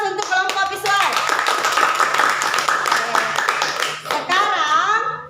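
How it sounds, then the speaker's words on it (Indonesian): Classroom applause for a student group, a dense patter of many hands clapping near and loud, mixed with children's voices chattering through it and a brief dip before the clapping resumes. "Aplaus untuk kelompok visual."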